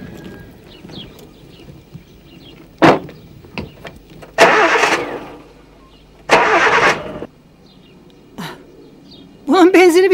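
A car out of petrol cranks repeatedly without starting, with loud bursts of starter whirring separated by pauses and clunks, followed by a voice at the end.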